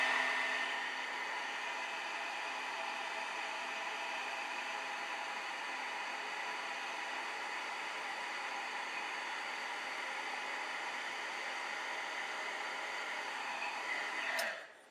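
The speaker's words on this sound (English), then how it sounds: "I'm going to hold this right here while I heat it with my heat tool" A heat tool blows with a steady, even whirring roar while melting embossing powder on an envelope, running continuously and close by with no talking until it cuts off at the end.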